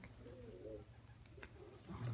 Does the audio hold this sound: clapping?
no